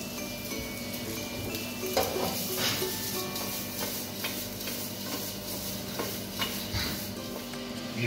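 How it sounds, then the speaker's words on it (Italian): Guanciale renders slowly in its own fat in a pan, a soft continuous sizzle close by, broken by occasional scrapes and light clinks of a utensil stirring; no one speaks. "Iniziamo a far sfrigolare il guanciale piano piano nel suo grasso."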